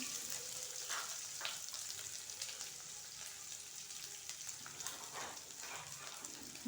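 Curry leaves and onion frying in a pan of oil for dal give a steady, close hiss and crackle that holds through the whole stretch with faint stirring bursts and no talk.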